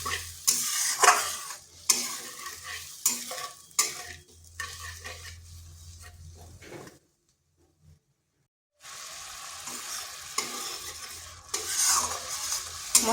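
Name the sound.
masala spice paste frying and being stirred in pan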